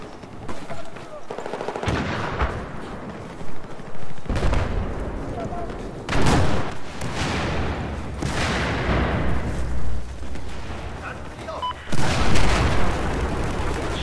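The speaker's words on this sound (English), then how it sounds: "Somebody's fucking mortaring us over here" Mortar fire and explosions in Battlefield 4 multiplayer Rush and Obliteration rounds: loud repeated booms and heavy blasts mixed with bursts of machine-gun fire, under a player's excited talk.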